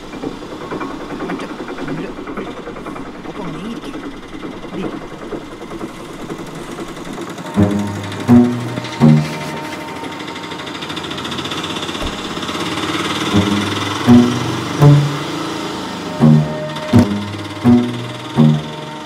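An auto rickshaw engine idles and runs at night, a steady low chugging that grows louder midway, joined by a series of rhythmic knocking thumps toward the end.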